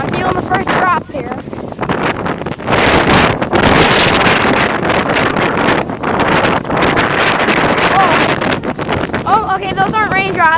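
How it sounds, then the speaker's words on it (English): Strong wind buffets the microphone on the beach at Castaway Cay during windy, rainy weather with spray blowing in from the ocean, a loud, continuous roar that surges and gusts, with brief human voices. "it's not a very good afternoon exactly here in Castaway Cay. I mean, it was at first, but it got a lot windy and rainy."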